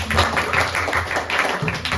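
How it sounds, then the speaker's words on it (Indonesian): A group of classmates gives a short burst of dense, steady hand clapping at close range for fellow students after a university class presentation. "berikan tepuk tangan kepada teman-teman"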